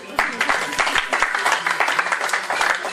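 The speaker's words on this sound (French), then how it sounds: "On applaudit Sakassou." A crowd at a press cocktail and album launch claps in lively bursts, fairly close and uneven, with a voice talking over the applause.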